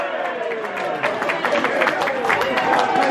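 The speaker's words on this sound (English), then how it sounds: "The crowd go wild" Football crowd at a Hucknall Town match cheering and applauding a goal, a steady wash of roaring and clapping heard from nearby, with a voice talking over it.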